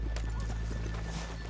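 Horses in Red Dead Redemption 2, a steady run of close hoof clip-clops over a loud low rumble with a neigh-like bleat mixed in, no clear talk.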